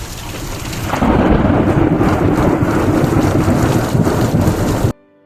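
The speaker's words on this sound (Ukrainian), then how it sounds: "Щоденні грози." A daytime summer thunderstorm over a rural vegetable garden: a loud, sustained rumble of thunder blended with heavy rain and wind buffeting the microphone, building after a second, holding steady, then cutting off abruptly near the end.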